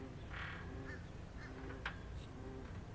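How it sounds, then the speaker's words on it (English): Ducks in a park, several honking quacks in short calls scattered over a low outdoor background, moderately distant and fairly soft, with no one talking. "I'm in this park with these fucking ducks and these animals"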